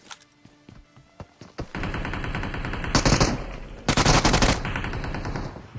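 Rapid automatic gunfire from a battle royale shooter game, in loud sustained bursts with sharper, heavier volleys midway, preceded by a few scattered single shots.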